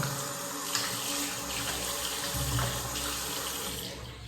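Water runs steadily from a sink tap while a safety razor is rinsed under it, a continuous close splashing flow with small shifts as the blade moves through the stream.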